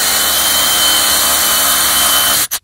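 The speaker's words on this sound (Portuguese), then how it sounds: "vocês podem ver a performance da furadeira, que fura com muita facilidade a rocha." A DeWalt DCH133 20V cordless rotary hammer drills steadily into rock for a bolt anchor, a loud, continuous close-up grinding hammer that cuts off abruptly at the end.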